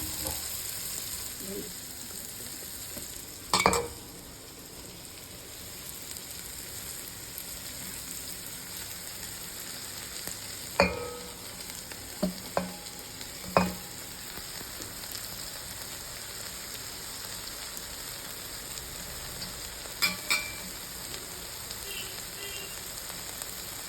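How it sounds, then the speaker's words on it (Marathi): Cowpea leaves and lentils sauté in a pan with a soft, steady sizzle and a few sharp scrapes and clicks of a spoon against the pan scattered throughout, faint and with no talking. "भाजी चांगली परतून घेतली आहे"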